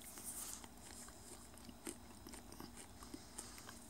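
A crunchy, melted-style honeycomb snack from the UK is chewed close to the mic, with quiet, irregular crisp crunches and bites over a soft background hiss.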